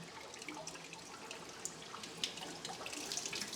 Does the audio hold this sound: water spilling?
yes